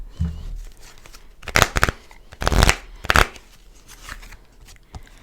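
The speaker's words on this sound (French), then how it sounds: "Je vais prendre des cartes en plus." Tarot cards shuffled and drawn by hand, with several quick riffling bursts and soft slaps separated by pauses, close up, with faint room noise between.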